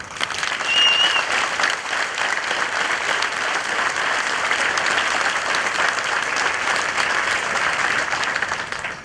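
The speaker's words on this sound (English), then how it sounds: "please give a round of applause for the non-commissioned officers of Charlie Company." A large audience of soldiers and guests claps steadily and loudly for several seconds at a military blue cord ceremony, a dense, even wash of applause.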